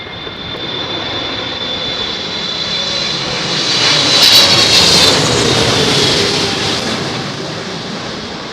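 A jet airliner with flaps extended coming in to land at London Heathrow in high winds, a loud roaring engine whine that swells as it passes close overhead and then slowly fades, with wind noise throughout.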